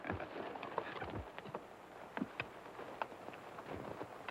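Hooves clip-clopping at an unhurried, uneven pace on hard ground, moderately close, with a faint breezy background and no talking.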